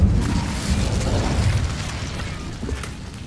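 Incendio fire spell cast in Hogwarts Legacy: a dense, rumbling burst of flame with crackling roar, close and loud, sustained over about three seconds and slowly fading, with no speech.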